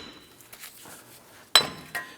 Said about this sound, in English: You can usually use a hammer and tap this around the edge here